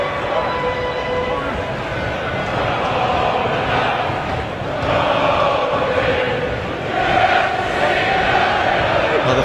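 A big rugby crowd at a Harlequins v Munster friendly roars steadily throughout. The dense, loud noise swells in waves, with cheers rising twice.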